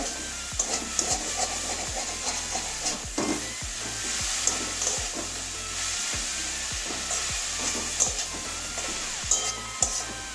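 Mustard greens fry in a pan, drying out and starting to stick, with a continuous sizzle and regular scraping spatula strokes as they are stirred.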